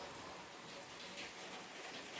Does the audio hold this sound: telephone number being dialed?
no